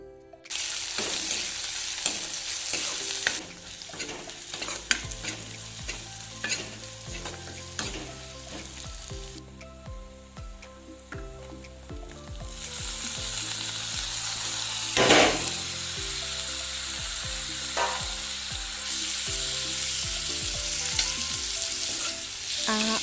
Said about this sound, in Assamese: এতিয়া অকণমান ফ্ৰাই কৰি লওঁ।